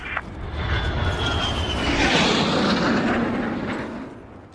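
Fighter jet engine roaring in the military shooter game Battlefield 4, a steady loud whoosh that swells toward the middle and eases off, with no talk over it.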